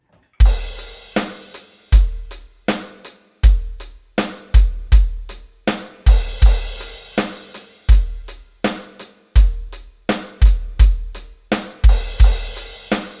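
A steady beat is played on a Yamaha DTX452 electronic drum kit, with hi-hat, bass drum and snare plus added extra hits and occasional crashes, sounding close, punchy and unaccompanied.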